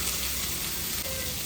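Groundnut oil sizzles hard in a pan while cooking raw mango chicken, a loud, steady crackling hiss that fills the whole moment, close by with no talk.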